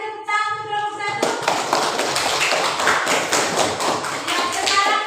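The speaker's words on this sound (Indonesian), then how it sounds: "Kita kasih tepuk tangan untuk kelompok 1." A classroom of students claps for a student group, and dense, loud applause starts after a brief tonal sound and continues steadily to the end.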